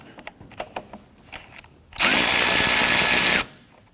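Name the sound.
loosening 10mm battery ground terminal nut, Hyundai Elantra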